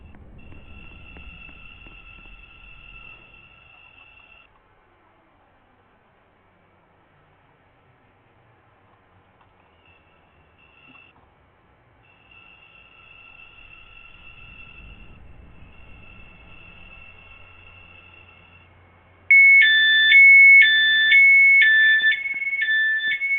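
A train in the Roblox game Stepford County Railway hums with a steady electronic tone that fades and returns, then a loud repeating chime or alarm pattern near the end.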